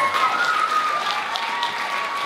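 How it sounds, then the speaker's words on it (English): Audience applause at a Rose of festival contestant event, a dense, continuous crowd clapping at steady volume with a faint sustained tone running beneath it. "Let's give them all a big, big round of applause as they come out with us"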